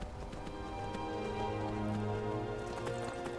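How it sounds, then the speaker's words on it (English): Horse hooves clip-clopping in the Skyrim video game as a riderless horse moves along, a steady run of close hoofbeats over a sustained musical background. "There's a riderless horse!"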